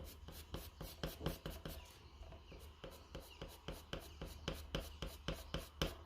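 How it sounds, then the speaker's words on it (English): Coloured pencil cross-hatches on paper, close and quiet: a long run of short scratchy strokes with brief pauses, shifting pace as the direction of the lines changes. "And then cross hatching will look like this."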